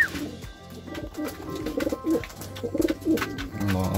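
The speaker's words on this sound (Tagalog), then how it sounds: "So ayan, pakain na rin tayo mga kalapatids. Ayan si Brown" A racing pigeon coos softly in short, repeated throaty phrases while being fed, close by, amid faint rustling and background noise.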